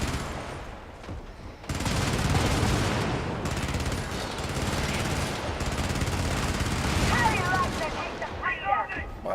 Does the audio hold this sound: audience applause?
no